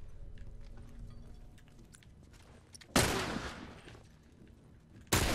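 Gunfire in The Last of Us Remastered on PS4: two sharp, loud shots stand out about two seconds apart, each with a short ringing tail, over a quiet rumbling background.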